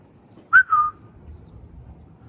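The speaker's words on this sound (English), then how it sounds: "Let's see if I can get it to whistle." Two short whistled notes, a sharp chirp then a slightly longer steady tone, fairly soft against a quiet background.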